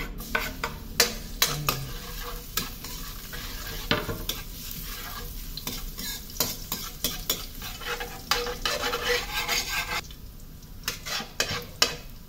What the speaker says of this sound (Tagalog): Mag-umpisa na tayo maggisa sa ating adobo